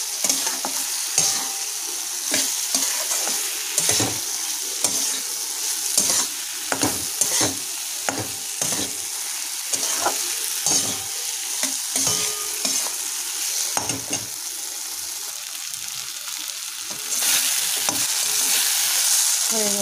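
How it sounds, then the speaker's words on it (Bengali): Fried potatoes being stirred into a Bengali pona fish curry (macher jhal) in a pan, with a steady sizzle and a run of spoon scrapes and knocks against the pan, close and alone. "আর অল্প একটু নাড়াচাড়া করব"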